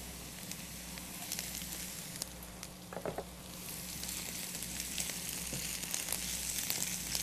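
Chopped calabresa sausage frying in a pan, giving a steady close sizzle with light crackles and pops throughout, no talking over it.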